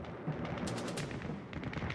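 Gunfire in a documentary battle scene on an airfield tarmac, dense overlapping shots crackling in quick bursts at mid distance over a rumbling background, no speech.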